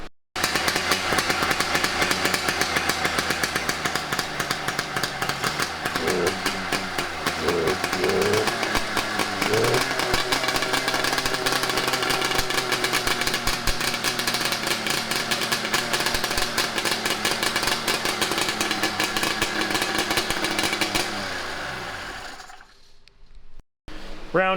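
A 100HP drift trike engine fires up for its first start, a loud continuous revving roar held for about twenty seconds before cutting out, close by, with voices partly under it.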